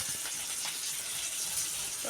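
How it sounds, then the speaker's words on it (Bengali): Tempering spices hitting hot oil in a home kitchen with a wood-fired stove, giving a steady, bright hissing sizzle that stays even and close for the whole stretch. "এবার ফোড়ন দিয়ে নেব"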